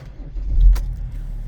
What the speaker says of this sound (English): If I start the van up